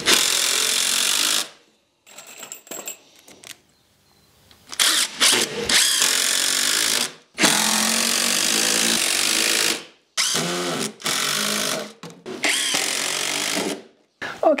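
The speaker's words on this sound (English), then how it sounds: "I'm also going to drive a bunch of screws across here and into the side as well to add strength to this frame" A power driver sends screws into a wooden garden arbor frame in loud, buzzing bursts of several seconds each, separated by short silences and brief handling noises.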